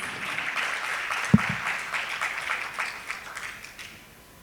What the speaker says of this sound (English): Can we have a huge round of applause for this gentleman